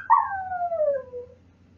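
A dog gives a single close howl that starts high and slides steadily downward before fading out, heard alone against a quiet background.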